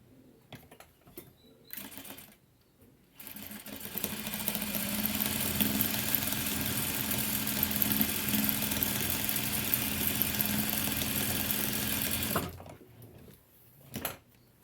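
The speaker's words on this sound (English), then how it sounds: "let's start on our sewing machine and do our first seam." A sewing machine stitches the first seam of a nine patch quilt block, a steady fast mechanical whir running about nine seconds, with brief clicks and handling noises before and after.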